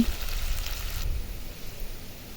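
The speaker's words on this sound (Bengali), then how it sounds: "আমি পেঁয়াজটা দেখুন ভালো করে ভেজে নিতেছি" Sliced onions frying in hot oil for Bengali shahi chicken rezala, a steady close hiss and sizzle that holds throughout and softens slightly partway, with no voices.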